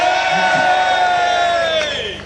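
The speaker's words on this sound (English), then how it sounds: "A big cheer." A protest crowd lets out a big, sustained cheer of many overlapping voices, loud and close, fading slightly toward the end.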